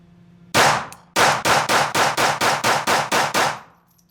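A Sig Sauer pistol fires about ten loud, close shots: one single report, a brief pause, then a rapid, even string of nine more before silence.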